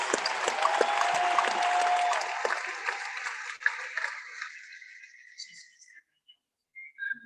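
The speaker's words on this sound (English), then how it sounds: "How about another round of applause" An audience at a company meeting claps, loud and dense at first with a whistle cutting through, then thins out and fades to scattered claps and near silence.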